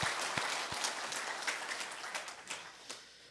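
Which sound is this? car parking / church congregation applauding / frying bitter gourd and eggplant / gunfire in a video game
church congregation applauding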